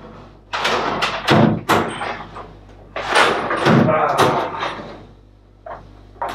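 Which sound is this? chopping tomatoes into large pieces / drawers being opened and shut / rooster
drawers being opened and shut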